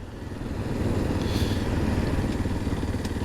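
A Kawasaki KLX230 dirt bike rides through town streets with a steady, rough engine drone that holds close and fairly loud throughout, mixed with rushing wind noise and no talking.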